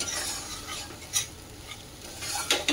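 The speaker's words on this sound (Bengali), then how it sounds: "মশলাটাকে ভালো করে এই যে কষে নিচ্ছি" Spice paste with Kashmiri chili powder sautéed in a pan for an elephant foot yam dhoka curry: faint, steady sizzle with a few sharper spatula scrapes against the pan, and no voices.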